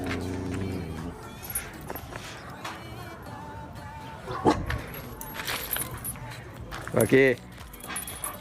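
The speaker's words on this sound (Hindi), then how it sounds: "देखो होलिका को देख के भौंक रहा है" Rocky the dog barks a few short, sharp times amid household jangling, with people talking throughout and a voice calling his name.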